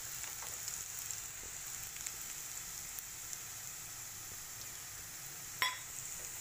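Onions with spices frying in a pan for aloo paratha filling give a steady, quiet sizzle throughout, with a single brief utensil clink near the end.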